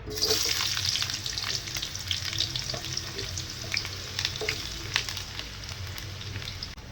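Large onions frying in hot oil in a pan, a dense continuous crackling sizzle heard up close with faint stirring scrapes and no talking.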